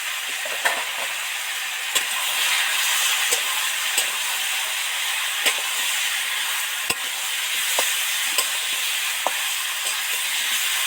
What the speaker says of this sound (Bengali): একটু চিনি অ্যাড করছি তেলের মধ্যে